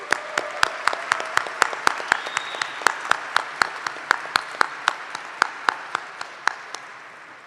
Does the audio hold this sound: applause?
yes